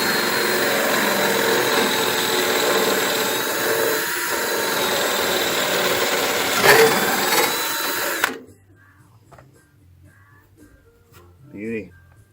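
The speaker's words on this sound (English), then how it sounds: "And now it's time to drill some holes in here." A power drill whines steadily as it bores holes through a spring pack clamped in place while building a mobile chicken coop, running for about eight seconds before stopping, followed by quieter clatter and a short whir.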